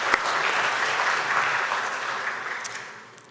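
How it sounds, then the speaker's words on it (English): Audience applause at a book launch, a dense steady wash of many hands clapping that holds strong for about three seconds before tapering off, with no talking over it. "let's give my wife and Nathaniel and Kaylin a round of applause for that"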